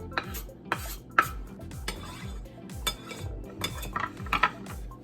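A utensil stirs and scrapes through hush puppy batter in a bowl, giving repeated close clinks and knocks in a steady rhythm, with no talking.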